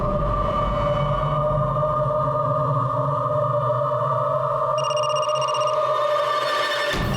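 A steady electronic phone ringtone drones on continuously for several seconds with sustained harmonic pitches, then cuts off abruptly near the end.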